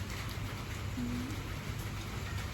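Rain falls in a steady, dense hiss of drops hitting surfaces, constant and fairly loud throughout with no talking.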